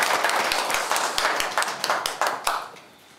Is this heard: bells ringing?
no